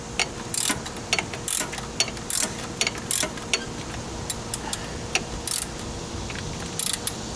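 Ratcheting clicks come in short bursts as a wrench tightens the bolt that tensions the fan belt on a Jeep Wrangler YJ, the bursts close and fairly loud with quiet gaps between.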